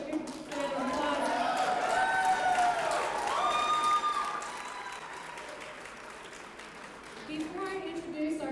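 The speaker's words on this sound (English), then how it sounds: "Give yourself a good round of applause." Crowd applause at a health freedom rally on the Oklahoma State Capitol grounds, a steady wash of clapping and cheering that swells, eases midway, then picks up again near the end, with voices mixed in.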